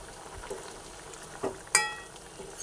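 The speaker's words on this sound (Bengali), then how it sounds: "এর মধ্যে অল্প পরিমাণে ঘি দিয়ে দিলাম" Ghee hits a simmering eggplant kofta curry with a faint, low sizzle, broken by a few soft spoon scrapes and one sharper clink as the pot is stirred.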